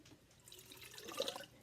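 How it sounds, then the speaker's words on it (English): Pre-brewed chai tea pours into a small cup, a short soft trickle of liquid that rises slightly in pitch as it fills, faint and close with no talking. "Then you just pour it in here."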